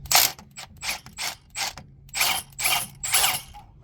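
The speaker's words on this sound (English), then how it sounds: "so for the top bolt, 15 millimeter, I'm going to use my impact." Impact wrench working a 15 mm top motor mount bolt on a Dodge Avenger, a run of about eight short rattling bursts close up, evenly spaced and loud.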